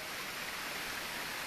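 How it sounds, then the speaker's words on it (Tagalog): Naambon Falls on Mount Daguldol, swollen by stormy weather, produces a steady, dense roar of falling water, loud and unbroken. "Dito na kami sa falls."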